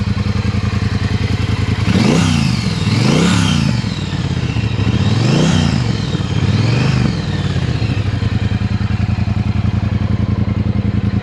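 A Triumph Bonneville Speedmaster motorcycle engine idles with a deep, steady rumble, punctuated by four loud revving blips that rise and fall, then settles back to a close, continuous idle.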